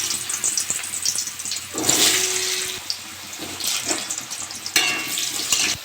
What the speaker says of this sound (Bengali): তেলটা গরম হয়ে গেছে, আমি আলুটা ভেজে নেব।